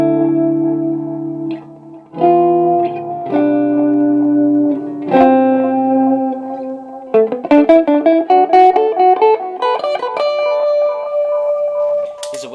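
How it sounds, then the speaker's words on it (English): Electric guitar played through a Bogner Alchemist amp head on the clean channel with delay engaged: sustained chords, then a run of quick picked notes trailing repeats, loud and alone with no talk. "I'll show you the delay."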